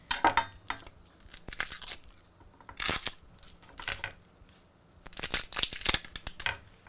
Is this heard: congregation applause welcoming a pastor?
no